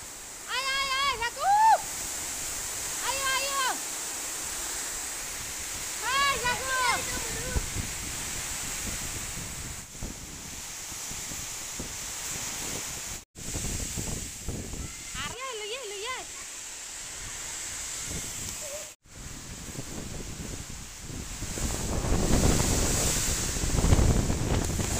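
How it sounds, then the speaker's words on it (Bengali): A violent storm with heavy rain and strong wind lashing a rural schoolyard, heard as a steady roar of rushing wind and rain with gusty swells, while a person talks over it intermittently. "যত সময় যাচ্ছে ঝড় বৃষ্টির তাণ্ডব কিন্তু আরো বেড়ে যাচ্ছে"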